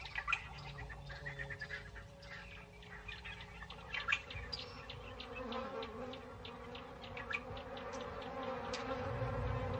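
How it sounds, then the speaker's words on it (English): Close, sustained buzzing of African bees hovering around, with faint bird chirps scattered in the background; a quiet, hot-sounding outdoor African savanna scene. "African bees, like everything else, are desperate for sustenance."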